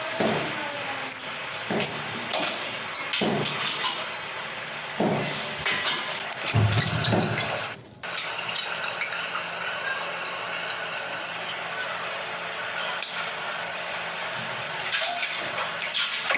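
Tap water runs steadily over cut custard apple as it is washed in a home kitchen, a continuous close splashing rush with brief surges and a short dip partway through.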